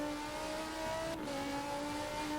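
McLaren hypercar engine in a wet Silverstone race, a steady tonal whine that dips sharply midway as the car shifts, then holds again, close and alone.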